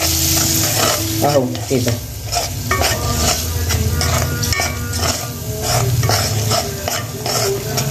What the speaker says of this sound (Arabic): الزيت اهو هحط عليه الدقيق كده اهو زي ما انتم شايفين كده، هقعد اقلب فيه كده